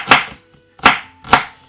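Half a white onion being finely chopped with a knife: three crisp, sharp chops close up, evenly spaced about half a second apart, with silence between them.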